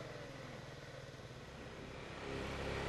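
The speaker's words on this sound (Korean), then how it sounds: "오토바이 보부상이 달려가고 있습니다." A travelling peddler's motorcycle rides through a remote Cambodian jungle village area, its mid-pitched engine droning steadily and building louder toward the end as it comes nearer, with no talking.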